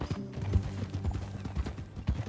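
Hooves of a horse clip-clop in Red Dead Redemption 2, a steady walking rhythm of close, hollow knocks repeating about every half second over a low background hum.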